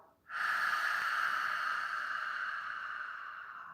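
One long ujjayi breathing exhale, a close, steady breathy hiss that begins abruptly and fades slightly as it continues.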